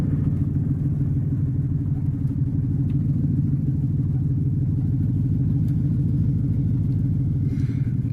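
A four-wheel-drive vehicle's engine runs slowly uphill with a steady, close low rumble and faint clatter that holds evenly throughout, with no voices.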